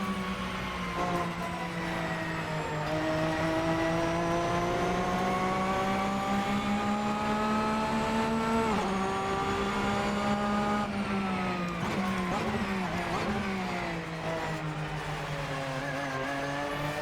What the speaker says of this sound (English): You hear the engine, you hear the gearbox, you hear the driveline lash.